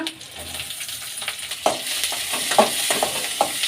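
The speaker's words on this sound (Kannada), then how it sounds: "ಈರುಳ್ಳಿ ಚೆನ್ನಾಗಿ ಫ್ರೈ ಮಾಡ್ಕೊಳ್ಳೋಣ, ಚೆನ್ನಾಗಿ ಬಾಯ್ಲ್ ಆಗಲಿ." Sliced onions fry in hot oil with curry leaves, making a close, continuous sizzle with occasional scraping and clacking of a spatula stirring the pan, and no one speaks.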